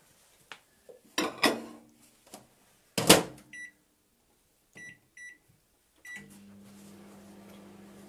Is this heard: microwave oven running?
yes